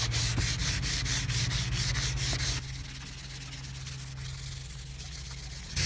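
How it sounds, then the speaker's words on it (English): Clear plastic headlight lens being wet sanded by hand with fine-grit sandpaper, a steady close rubbing hiss that drops to a softer, quieter scrub partway through, with no talking. "wet sand in a crosshatch pattern"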